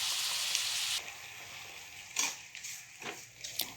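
Ground fennel, clove and ginger-garlic paste fry in a pan for white channa gravy, opening on a bright hiss that drops to a quieter sizzle, with a few soft scraping stirs near the end.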